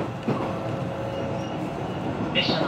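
A Hokuriku Main Line train runs between Tsuruga and Shin-Hikida, heard from inside as a steady rolling rumble with faint rail clatter and a brief high squeal near the end.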